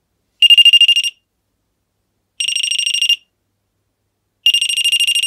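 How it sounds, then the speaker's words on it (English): A REM POD proximity alarm sounds in three loud, shrill electronic bursts, each a rapid warbling beep train lasting under a second, separated by clear pauses of silence. "And then if the device senses proximity, then you'll get a loud alarm."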